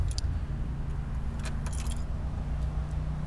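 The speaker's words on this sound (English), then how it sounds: "All the keys are with it, the spare keys and luggage spare keys as well." Spare keys and luggage keys for a 2006 Suzuki V-Strom 1000 motorcycle jingle in a few short, light bursts over a steady low background rumble.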